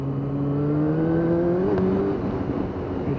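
A Yamaha YZF R6 sports motorcycle with a stuttering rev fault, its engine droning in a steady tone that climbs gradually and then dips back, close and fairly loud.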